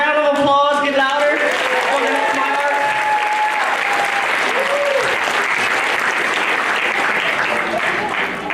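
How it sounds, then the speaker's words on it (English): A film festival audience in Cambodia Town applauds loudly and steadily for several seconds, a dense wash of clapping with a voice briefly heard at the start. "Can we get another round of applause?"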